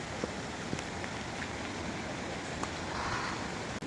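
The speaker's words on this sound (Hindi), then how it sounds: "और बारिश अभी भी नहीं रुकी है, कॉन्टिन्यूस।" Steady rain falling continuously on a mountain trek to Kareri Lake near Dharamshala, Himachal Pradesh, a dense hiss with scattered louder drops, close and even throughout.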